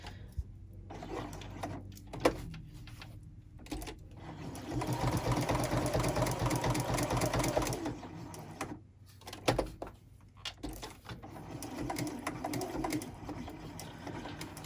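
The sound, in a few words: sewing machine stitching fabric chain garland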